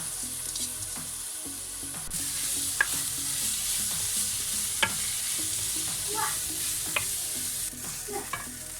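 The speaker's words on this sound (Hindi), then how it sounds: "5 मिनट हाई फ्लेम पे भून लेते हैं।" Brown poha being stir-fried over high flame in a pan, with a steady close sizzle and scattered scraping clicks of the spoon stirring through it.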